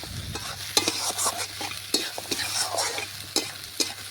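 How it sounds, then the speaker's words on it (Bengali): Fried potatoes stirred into mutton in a pan for a home-style mutton biryani, with continuous close sizzling and a spoon scraping and turning the pieces in repeated strokes. "এটাও ভালোভাবে মটনের সাথে মিশিয়ে দেখুন আলুটাও একটু কষিয়ে নিচ্ছি।"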